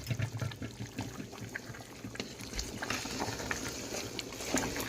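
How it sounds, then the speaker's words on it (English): Bitterleaf soup stirred in a cooking pot, a quiet, close wet sloshing and bubbling with soft clinks, continuous throughout. "Now let's stir our soup."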